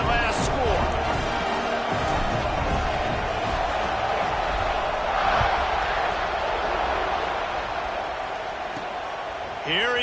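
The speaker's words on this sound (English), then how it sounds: "this crowd is buzzing after that last score" Loud, continuous roar of a stadium crowd buzzing at a football game against Tennessee, a dense wash of cheering and voices filling the whole stretch, with a commentator talking over it.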